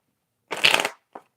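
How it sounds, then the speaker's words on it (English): Tarot cards are shuffled in one quick riffle, close and crisp, followed by a brief soft tap as the deck settles. "one more shuffle"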